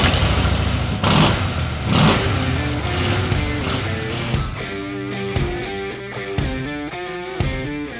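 A Harley-Davidson motorcycle engine starts with a couple of rough bursts, then settles into a throbbing, revving run that rises and falls through to the end, loud and close, with no talk.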